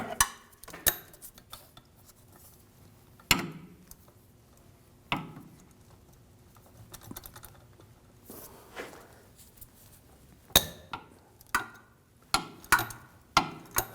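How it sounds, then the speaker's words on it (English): A socket wrench works on the rear axle bolts of a BMW 328i, giving scattered sharp metallic clicks and clanks with quiet gaps between, growing busier toward the end. "I'm going to take the bolts out of the axle near the differential. Use a E12 socket."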